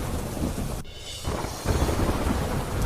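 Torrential monsoon rain pounding down in Devalki village, Gujarat, with a heavy crack of thunder rolling through the steady roar of the downpour, close and loud, no voices.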